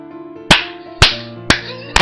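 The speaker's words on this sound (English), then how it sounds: "Dalton claps his hands together and laughs." Hands clapping together, four sharp, loud claps spaced about half a second apart in a steady rhythm, each ringing briefly into a quiet background.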